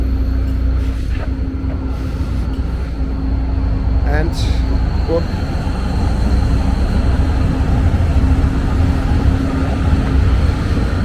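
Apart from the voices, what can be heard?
tram line 2 passing by in Karlsruhe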